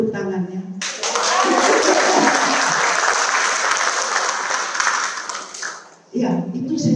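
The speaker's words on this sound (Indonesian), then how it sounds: "Sepi ya tepuk tangannya." Audience applause at a church women's ministry gathering bursts in after a brief voice, holds as a dense, steady clapping for about five seconds, then fades and talking resumes.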